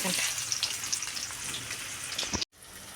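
A chili curry with masala fries in a pan with a steady, fairly loud sizzle and occasional stirring scrapes, broken by a brief cutout near the end.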